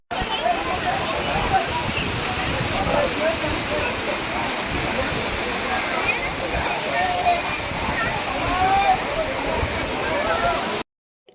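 Jhari Falls, a waterfall near Chikmagalur in Karnataka, roars in a steady, dense wash of falling water that stays loud and unbroken for the whole stretch before cutting off abruptly at the end.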